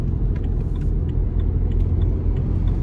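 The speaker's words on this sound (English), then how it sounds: "We just try and rev it now. Very sluggish. Look, it's struggling there, can you see? Now it won't rev at all." A car engine with a blocked DPF rumbles sluggishly, a steady low drone that fails to build in revs, heard close with faint mechanical ticks above it.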